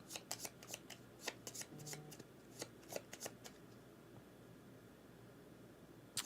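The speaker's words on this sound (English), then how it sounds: "I assume we shuffle at that point." A deck of cards riffle-shuffled during a tabletop board game, with quick crisp bursts of flicking cards in rapid clusters, fairly faint and close, then fading into quiet room noise.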